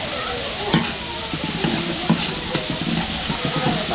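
Garlic frying in a pan until golden brown, a steady sizzle with occasional stirring scrapes and clinks, heard close and alone without talking.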